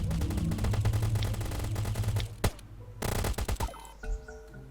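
Rapid automatic gunfire rattles in the survival video game Last Island of Survival, a dense stream of shots that breaks off, followed by a second short volley and scattered single cracks, with faint bird chirps in the background.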